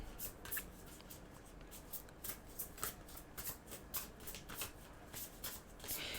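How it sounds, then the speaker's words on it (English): Tarot cards are shuffled in quick repeated riffles and slides, soft papery flicks and brushes recurring rhythmically, quiet and close. "the shuffling is kind of nice"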